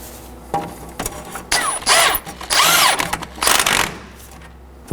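Ratchet or power tool tightening a castle nut onto the steering knuckle of a 2013-2019 Nissan Sentra during a bellows boot replacement, heard as several close, loud whirring bursts with brief pauses between them.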